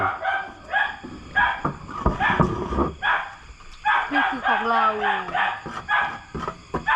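A dog barks in repeated short yaps and whines at close range, broken up by a person talking in Thai between and over the barks.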